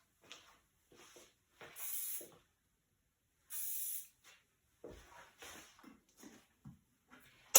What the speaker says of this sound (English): we can just spray that to have a little bit more hold